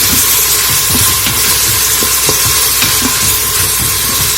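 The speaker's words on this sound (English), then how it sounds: "Make sure this is nicely sauteed." Quinoa and black beans sauteing in a pan, giving a loud, steady sizzle and hiss throughout, with soft scraping and stirring taps underneath and no talking.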